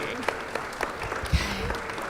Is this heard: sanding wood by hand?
no